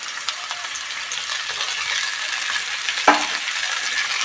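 Eggplant and tomato fry with chopped coriander in a pan, giving a steady, dense sizzle throughout with one sharp utensil clack near the end and no voices.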